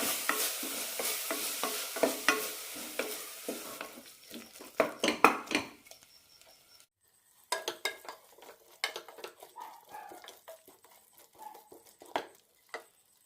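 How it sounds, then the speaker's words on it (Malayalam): Beetroot curry masala paste sautéing in a pan, with brisk scraping stir strokes over a sizzle. The strokes are busy and loud at first, then turn sparser and quieter, with scattered clinks of the utensil. "ഒരു മിനിറ്റ് നന്നായി വഴറ്റാം"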